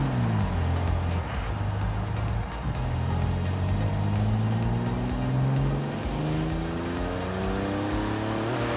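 Porsche 918 hypercar engine in the racing game Forza Horizon 3, a steady droning exhaust note with slowly rising and falling pitch, loud and close with no talking.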